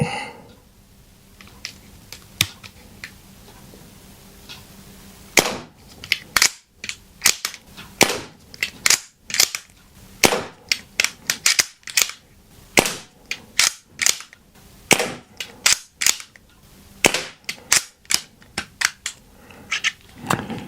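An Artemis CP2 airgun fitted with a red dot fires shot after shot at 3D-printed target holders and eggs. The sharp cracks come in a quick, uneven volley, close and loud with no voices.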